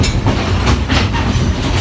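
Train rolling along rails on a ride near the Hiwassee River in Tennessee, a steady loud rumble with rhythmic clickety-clack of wheels over rail joints throughout.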